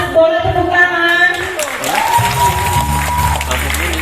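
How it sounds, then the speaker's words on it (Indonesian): A church congregation claps during a Christmas service held by a Bethel Indonesia women's fellowship in Galuh Mas, Karawang. The applause is moderate and continues under a voice and sustained musical tones. "Saya mau sapa wanita Betel Indonesia Galumas, boleh tepuk tangan."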